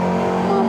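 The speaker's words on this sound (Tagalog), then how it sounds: "Pero daanan din to ng mga sasakyan eh. Ayan, mga motor." Motor vehicles, motorcycles among them, pass along a road with a steady, fairly close engine drone and a strong low hum lasting under a second.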